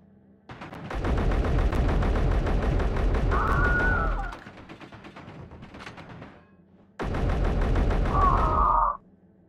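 Rapid automatic gunfire in Space Engineers as a firefight with marauders plays out: two long, loud bursts of sustained shooting, split by a quieter stretch of scattered shots, with no voices over it.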